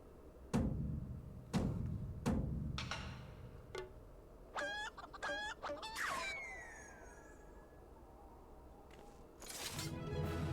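Chicken clucking in the Final Fantasy XIV video game, heard as a series of sharp staccato squawks and bright warbling calls with thumps, then a falling swoop and a burst of noise at the end.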